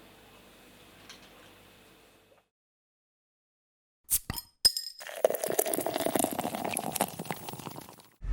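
Glasses of cold home brew clink together in a toast: a few sharp, bright knocks after a quiet pause, then a busy stretch of rattling, fizzy clatter, with no talking.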